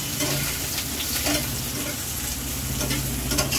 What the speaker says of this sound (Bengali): এগুলো একটু ভেজে নেব এই তেলেতে।